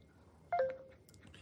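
A smartphone gives a short electronic chime as it is touched to a dog's tag, a single bright beep rising out of quiet room noise.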